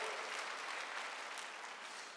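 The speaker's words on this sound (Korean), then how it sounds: "박수 한번, 하나님께 영광의 박수!" Steady applause from a church congregation at an outdoor spring mountain revival meeting, a dense wash of clapping sustained without a break for a couple of seconds, moderately distant.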